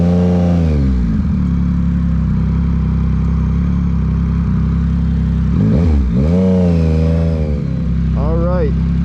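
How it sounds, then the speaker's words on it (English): A 2023 Yamaha MT-09 motorcycle idles with a deep, loud exhaust rumble in power mode 1, then revs up sharply a few times, pitch rising and falling with each throttle blip. "whenever I switched it modes, the exhaust just keeps getting louder"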